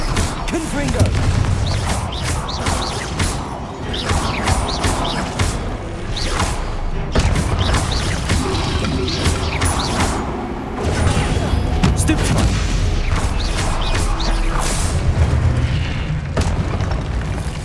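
Repeated fiery blasts from the Confringo spell in Hogwarts Legacy, a dense barrage of booming explosions and thuds during combat, loud and continuous with brief lulls.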